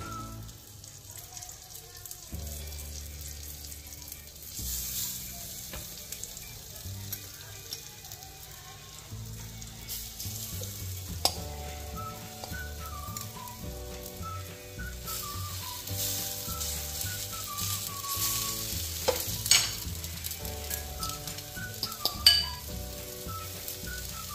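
Butter garlic fish fillets laid one by one into a pan with a little oil, giving a soft continuous sizzle that sits beneath steady background music.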